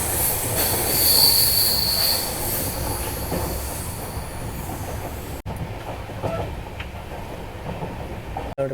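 Belagavi–Bengaluru superfast train creeping slowly along a ghat section near Alnavar and Londa, its wheels squealing continuously over a steady rolling rumble. The sound breaks off abruptly partway through, then resumes with a similar, slightly quieter grind.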